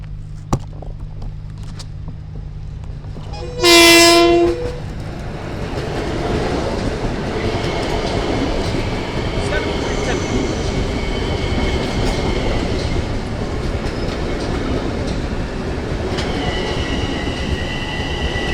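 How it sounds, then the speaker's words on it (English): Long Island Rail Road commuter train 1062 from Grand Central rumbles in steadily and close, a loud horn blast sounding early on, then a continuous roll of wheels and cars with brief squeals as it arrives. "Train 1062 coming from Grand Central now."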